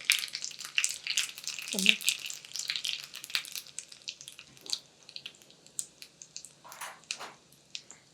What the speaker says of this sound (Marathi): सगळ्यात आधी मोहरी छान चुटचुटली म्हणजे फोडणी खमंग बसली.